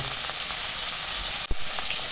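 Potatoes with turmeric and tomato fry in a pan, giving a loud, steady sizzle throughout, broken once by a short knock of a stirring spoon.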